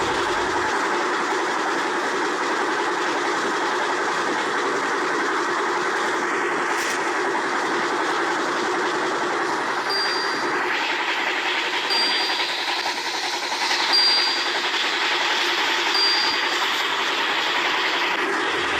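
A train in the video game Railway Simulator India runs steadily for the whole stretch with a continuous rumble and faint rail clatter. Thin high tones come and go near the middle. No one speaks.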